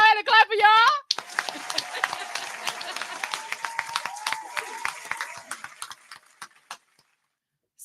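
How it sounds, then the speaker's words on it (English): A brief spoken phrase gives way to a burst of hand clapping for guests in a comedy talk setting, several seconds of brisk claps that thin out and fade into silence. "I'm gonna go ahead and clap for y'all."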